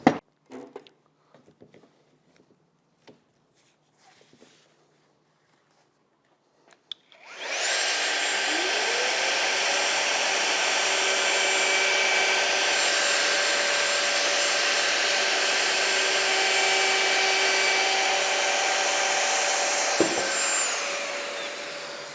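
A Festool cordless edge router trims a panel edge, its motor spinning up into a loud, steady high whine that holds for about twelve seconds before winding down, preceded by a few quiet clicks of handling.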